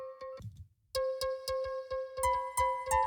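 Dry, bell-like synthesizer piano in the style of a Yamaha DX7, played with no effect, sounding as a short bright phrase of repeated plucked notes with a brief pause, then a steady run of evenly spaced notes.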